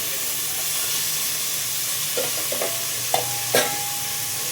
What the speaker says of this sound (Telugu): వేసి మంచిగా పచ్చి వాసన పోయేంత వరకు వేయించుదాము.